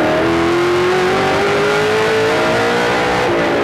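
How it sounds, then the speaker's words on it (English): On-board sound of a stock race car engine during a 2008 Pizza Pizza 300 race, held at a steady loud drone as the driver feathers the throttle coming off a corner, with a slight rising pitch throughout. "You hear Peter just feathering the throttle, keeping the car straight, not slipping the rear tires to get maximum drive up off the corner."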